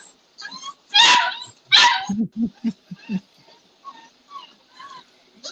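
Puppies in a home yip, bark and whimper in a burst of close, loud high-pitched barks followed by a string of short lower yaps and softer whines.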